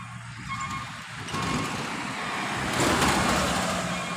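Box truck engine labouring on an uphill road, a steady low rumble that swells louder toward the end amid general road noise.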